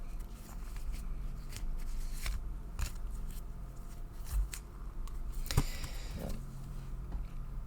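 Soft shuffling of tarot cards, papery riffles and light slides with occasional taps, steady and close in a quiet room.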